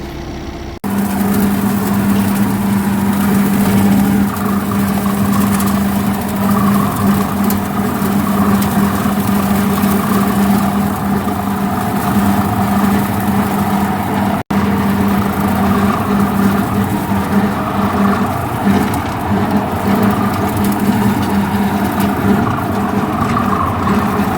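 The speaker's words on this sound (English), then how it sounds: "out here mowing, getting ready to spray and get ready for fall plots" Mower engine running steadily while mowing a field in July to prepare fall food plots, a loud continuous drone with a low hum throughout and no talk.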